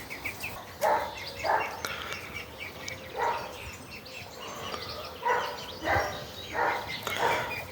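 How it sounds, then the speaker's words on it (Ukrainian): A dog barks repeatedly in short bursts, moderately distant, against steady outdoor background noise with faint bird chirps. "Ну а собаку вы чуете, да?"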